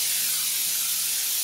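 Cooking spray hisses from a can onto a cupcake pan in one loud, continuous close burst lasting over a second.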